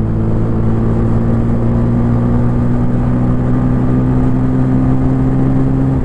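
A 2024 TVS Apache RTR 160 4V motorcycle engine drones loud and continuous while riding, a steady close mechanical hum with no voices over it.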